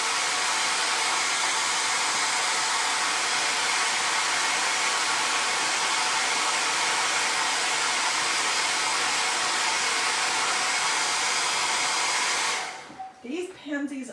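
A hair dryer blows steadily on pounded pansy flower art, a loud constant whoosh that cuts off near the end, followed by faint handling noises.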